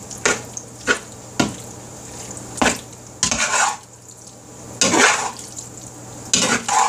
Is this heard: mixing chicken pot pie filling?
yes